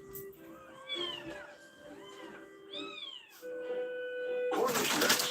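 A Cornish Rex cat meows repeatedly at close range, a series of rising and falling mews with short gaps, followed by a burst of broadband noise at the end.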